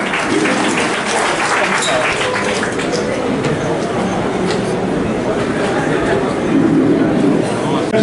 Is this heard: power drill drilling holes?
no